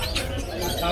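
Caged birds being transferred coo and chirp in short bursts close by, soft pigeon-like calls mixed with brief tweets over a background murmur.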